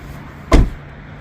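A single car door slams shut after the occupants get out, one sharp, close thud standing alone against faint background hum.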